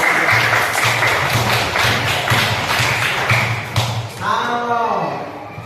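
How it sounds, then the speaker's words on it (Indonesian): A classroom breaks into steady applause with scattered claps and taps, mixed with voices, before the clapping fades out. "oh bagus, tepuk tangan ya"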